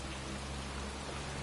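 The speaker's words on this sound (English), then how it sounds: "It's cold. It's raining." Rain falling outdoors in cold weather, heard as a steady, even wash of noise with a low hum beneath it, constant and without any voices.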